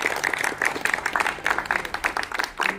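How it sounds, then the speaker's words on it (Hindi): An audience claps to welcome a couple on their first wedding anniversary in Sultanpur. The claps are close and uneven, coming in irregular bursts that swell and dip, with a voice faintly mixed in. "आपके स्वागत में एक बार ताली बजाएंगे"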